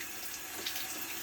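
Tap water runs steadily from a faucet into a pot of rice, a faint, even splashing rush lasting about a second.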